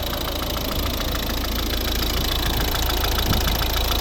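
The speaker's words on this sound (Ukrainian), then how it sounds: "Ось робота двигуна." The 1.6-litre diesel engine of a 2011 Volvo V50 idles steadily and loudly up close, warmed up, a constant rattling drone with no change in pace.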